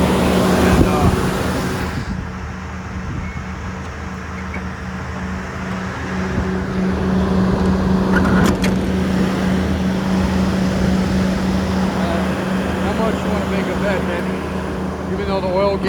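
A 1986 Jeep CJ7 with Dana 44 axles, A/C and power steering drives steadily toward a house, its engine a continuous close hum with a steady low tone under the road noise, and speech comes in over it.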